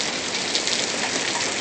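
Heavy storm rain in a 1969 western TV drama, a loud, unbroken wash of falling water and drops on surfaces, close and steady with no speech over it.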